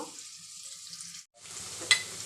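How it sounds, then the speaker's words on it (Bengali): Potatoes fry in a pan with salt and turmeric, making a soft, close hiss that cuts out briefly, then returns with a small sharp crackle. "লবণ একটু হলুদ দিয়ে আমি ভেজে নেব"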